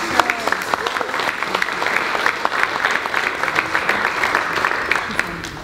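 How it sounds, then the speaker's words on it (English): Keynote audience at an early-literacy event claps steadily, a crisp crowd of hands with individual sharp claps standing out near the front, sustained and even for the whole stretch. "Round of applause for Michelle."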